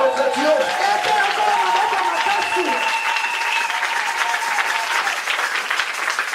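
Congregation applauding at a Sunday church service, dense sustained clapping from many hands close by, with sung or spoken voices over it at the start.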